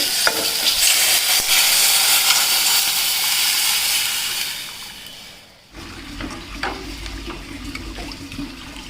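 Spice paste frying with roasted garlic in a pan, a loud bright sizzle with stirring scrapes that drops abruptly partway through, then settles into a lower, quieter frying hiss with occasional clinks.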